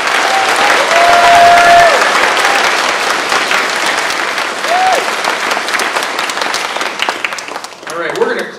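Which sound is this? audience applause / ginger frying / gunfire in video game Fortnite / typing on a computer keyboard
audience applause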